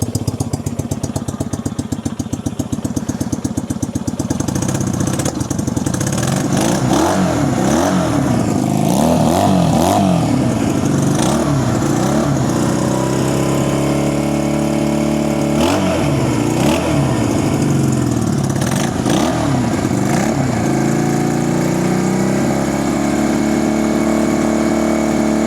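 A 1965 Honda CB160 motorcycle engine, one cylinder weak on compression, running close and loud, with a rough idle that rises into repeated revs and settles again, with no talk.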